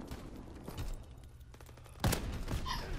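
A PTRS 41 sniper rifle fires in a video game, with a couple of sharp, loud shots standing out over background game noise. The second shot is the strongest.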